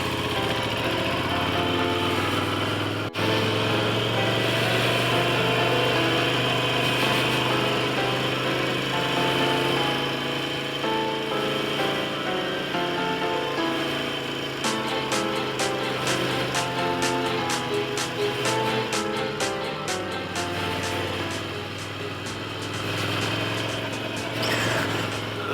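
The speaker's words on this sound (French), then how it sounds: "là c'est le premier off-road avec la moto" Triumph Desert Sled motorcycle riding an old road near Mont Lozère, its engine droning steadily and loudly close by, with rhythmic gear and throttle pulses later and no talk.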